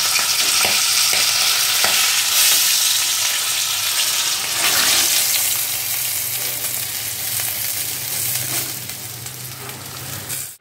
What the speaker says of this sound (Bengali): এটাকে এখন আমি ভাজা করে ফেলবো